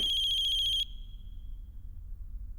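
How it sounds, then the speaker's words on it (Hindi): A phone ringtone sounds loudly for just under a second, an electronic pulsing ring that cuts off abruptly, leaving a quiet room hum. "किसका फोन है?"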